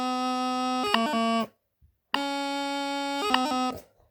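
Practice chanter playing a doubling scale from low G with a metronome: a steady reedy tone broken by quick grace-note flicks, played twice with a short silence between, faint and close.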